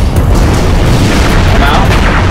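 An explosion in the Halo: Reach video game, a loud, heavy blast with rumbling debris that fills the whole moment at close range, with voices faintly underneath.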